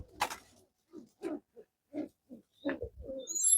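A series of soft, low coos from a female Jalali pigeon, short separate phrases repeated with brief pauses between them, close by and fairly quiet.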